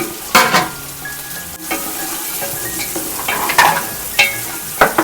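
Capsicum and chicken frying in oil for a chicken mandi, with a steady sizzle broken by loud scraping stirs and clatter from a spatula against the pan, close and busy.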